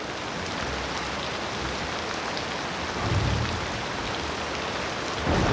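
Steady, heavy rainfall in Cities: Skylines II filling the whole clip with dense hiss, with low rumbles swelling briefly partway through and again at the end.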